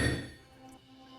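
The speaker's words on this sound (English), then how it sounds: "Let me give it a good hit and see if it breaks now." A hammer lands a single hard hit on a diamond tip, breaking it, with a sharp thunk and clink at the start that fades quickly into a faint ringing tail.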